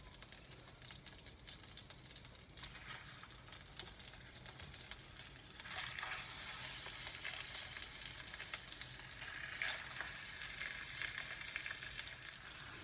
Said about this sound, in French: Voilà, l'huile est chaude. Je rajoute maintenant à l'intérieur mes encornets.